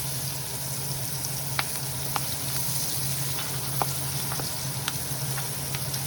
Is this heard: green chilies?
yes